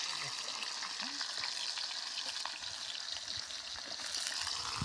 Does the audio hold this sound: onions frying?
yes